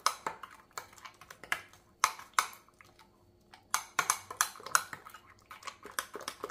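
Homemade garlic mayonnaise stirred in a bowl with a utensil, giving sharp, irregular clinks and scrapes against the bowl in uneven bursts, with brief quiet gaps between them.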